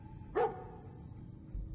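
A dog in the Fallout 4 video game gives one short, sharp bark over a quiet, low background hum, fairly soft and brief.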